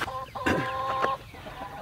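Chickens cluck nearby, a short burst of squawky, tonal calls with a few sharper clucks, over faint outdoor background noise.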